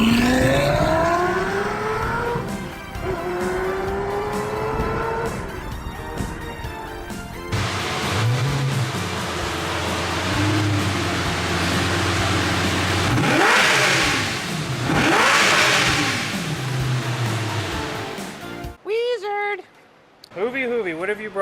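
A Lamborghini with a gated shifter revs and accelerates on the road, a loud sustained engine roar rising and falling through gear changes, with people talking over it.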